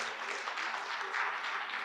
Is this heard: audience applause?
yes